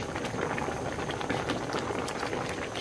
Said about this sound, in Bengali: এই যে শাক দিয়ে দিলাম। এখন নেড়ে দেব,